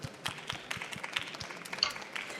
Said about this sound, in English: Yes, we can clap for Simon.